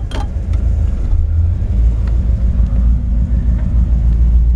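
A 1960 Ford F100 engine fitted with an RV cam idles steadily while warming up, a loud, continuous low rumble with a faint uneven lope.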